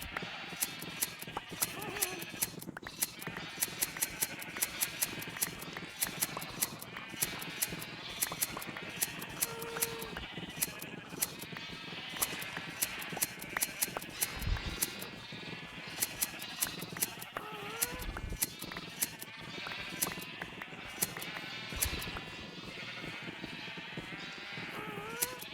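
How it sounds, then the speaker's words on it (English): Rapid snipping of shears on sheep in Minecraft, with scattered sheep bleats in a village, comes as a dense, steady run of sharp clicks that stays busy and fairly loud throughout. "Lots of sheep to be sheared."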